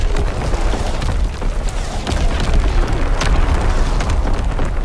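Incoming enemy artillery in a video game, heard as a dense run of heavy rumbling booms and bursts layered over one another, loud and continuous throughout.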